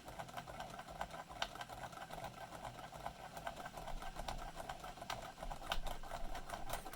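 A homemade electric motor built from scratch runs steadily, giving a fairly quiet, continuous whirring buzz with faint rhythmic ticking throughout.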